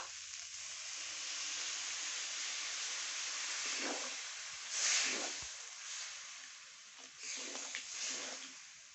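Water is poured into a hot pan of cooked potato mixture for flour-and-potato bread pakora, giving a steady steaming hiss with a few louder sizzling surges. No one speaks.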